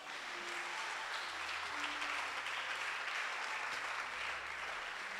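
A church congregation applauding steadily, a dense, even wash of clapping that holds at the same loudness throughout, with no voices over it.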